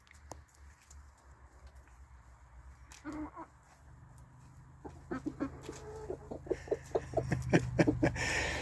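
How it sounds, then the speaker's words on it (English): Chickens and a cockerel clucking in a garden, a run of short, sharp calls building from sparse clucks to a busier, louder cluster near the end, heard fairly close with light background noise. "Oh, cockerel's getting jealous."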